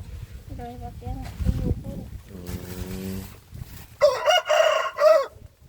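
Someone talks briefly, then a rooster nearby lets out a loud, drawn-out crow that breaks into two strained bursts.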